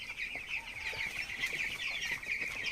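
Broiler chickens about three weeks old cluck and chatter steadily inside a farm house, a dense, continuous flock murmur with scattered sharper calls over a constant background hum, no talking.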